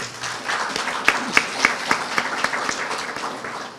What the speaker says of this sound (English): So give yourselves a round of applause